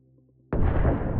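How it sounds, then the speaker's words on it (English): A Russian ammunition truck in the Donetsk region detonates after a drone strike, with a sudden loud blast breaking a near-quiet background and then a heavy, sustained roar. "What a massive explosion from the truck!"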